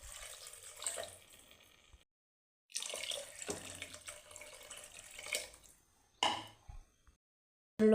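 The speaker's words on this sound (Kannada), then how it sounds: "2 ಲೋಟ ನೀರು ಸೇರಿಸ್ಕೊಳ್ಳಿ." Water is poured into a pot of rice in several separate splashing pours with short silent gaps between them, ending with a light metallic clink.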